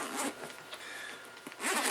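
A bag's main-pouch zipper is pulled open in a few quick rasping strokes, close and fairly quiet, with a longer run of zipping at the end and no talking.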